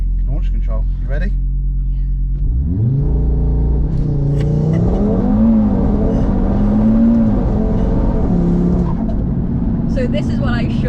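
A 700bhp Audi RS3 on launch control, running on fuel with 20% methanol, idles with a burbling note, then launches into a loud, close acceleration that climbs through the revs and shifts gears, with brief talk before it starts.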